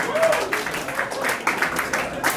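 Audience applause and cheering at a rap battle, a dense, steady wash of clapping from a crowd with voices mixed in, sustained and fairly loud throughout.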